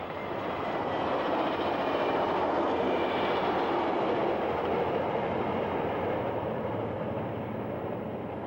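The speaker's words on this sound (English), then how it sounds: "Moments later, Amtrak number 570 makes its way to San Diego." Amtrak passenger train 570 heading for San Diego rumbles past nearby, a loud, steady roar of wheels and rails that holds level for the whole stretch with no voices.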